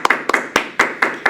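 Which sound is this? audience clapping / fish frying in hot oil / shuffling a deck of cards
audience clapping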